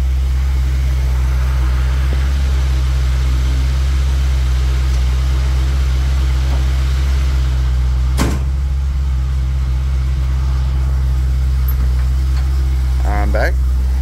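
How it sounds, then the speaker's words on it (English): A 1989 Aston Martin Lagonda Series 4 engine idling high while warming up, a loud, steady low drone, with a single sharp knock or thud partway through and faint rattling near the end. "It's still warming up. It's still at higher idle."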